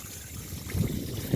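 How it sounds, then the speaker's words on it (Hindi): Dirty water draining out of a car heater pipe, a close gurgling trickle that swells into brief louder splashes, with no voices. "ये गंदा गंदा पानी निकल रहा है फ्रेंड इसके अंदर से"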